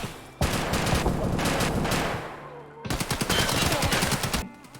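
Automatic AKM rifle fire in Escape From Tarkov, 7.62x39, two long loud sustained bursts of rapid shots separated by a brief pause, close and dominant.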